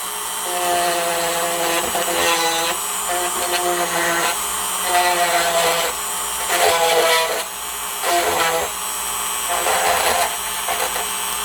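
A Dremel 4300 rotary tool runs at high speed, climbing toward 15,000 RPM with a steady, loud whine that dips and surges a few times, running alone without talk.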